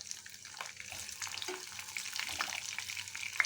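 Eggplant frying in a pan with browning garlic and curry leaves gives a soft, continuous sizzle and crackle, with faint stirring scrapes throughout.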